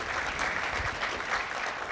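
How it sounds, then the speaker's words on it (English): A community gathering in Denver gives a round of applause, a steady, moderately distant wash of many hands clapping with no break. "A huge thanks and a round of applause for John Jaramillo."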